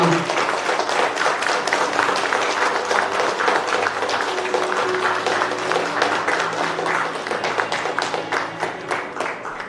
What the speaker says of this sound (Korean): 모두 격려의 마음을 담아 큰 박수를 부탁드리겠습니다.